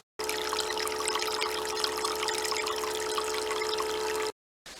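Water pours steadily into a tote container at an off-grid homestead, a continuous close rushing splash that holds for about four seconds and then cuts off.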